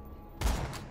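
Gunfire in the video game Borderlands 2: after a quiet start, a sudden loud burst of shots hits with a heavy low thump and a short ringing tail.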